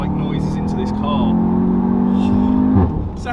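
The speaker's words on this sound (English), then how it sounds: "They've pumped some fake sort of RS3 like noises into this car." Audi TTS MK3 engine piped with synthetic five-cylinder, RS3-style sound, a loud steady drone rising in pitch as it accelerates, then dropping off sharply near the end, with someone talking over it.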